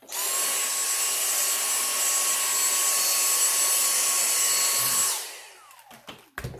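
A vacuum cleaner sucking up sawdust runs steadily at close range with a high whine for about five seconds, then shuts off and winds down, followed by a few light clunks.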